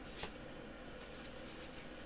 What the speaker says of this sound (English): I'm gonna shuffle until I get a song